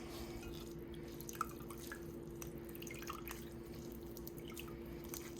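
Elderberry juice drips steadily as the berries are squeezed, a quiet, irregular patter of small drops over a constant low background hum.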